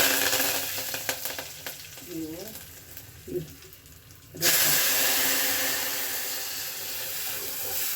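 Curry leaves dropped into hot oil in a steel pan for Tamil Nadu rasam, a steady loud sizzle and frying hiss with a brief stir, a voice faintly over it.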